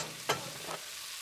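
Beef sizzles quietly in a hot pan, a soft frying hiss broken by a couple of brief stirring scrapes.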